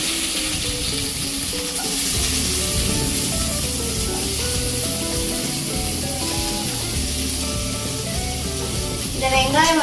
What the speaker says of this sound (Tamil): இந்த வெங்காயம் வந்து நல்லா வதங்குற அளவுக்கு நம்ம வந்து வதக்கிட்டே இருக்கணும்.